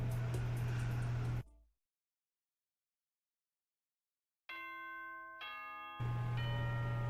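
In the Danganronpa video game, a school announcement chime rings out as a sequence of bright, sustained electronic bell tones. The chime follows a loud burst of sound and then a sudden stretch of silence.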